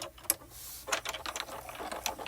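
A wood piece being die cut in a die-cut machine gives a run of short clicking, ratcheting mechanical sounds, close and fairly quiet, with no talking.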